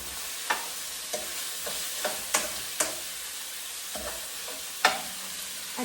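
Pork and cauliflower stir-fry in a pan with a continuous sizzle, punctuated by distinct spatula scrapes and clacks against the pan every second or so; close and unspoken.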